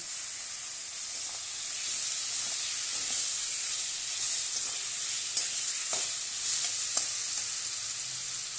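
Ginger paste goes into a pan of frying onion, garlic and green chili paste, raising a loud, constant sizzling hiss with a few soft stirring knocks near the mic, and nobody speaks.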